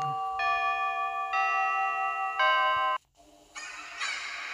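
The door chime in Five Nights at Freddy's 2 rings at 6 AM as three sustained, ringing tones struck in a row. The last cuts off abruptly, and a brighter, noisier burst of game sound follows.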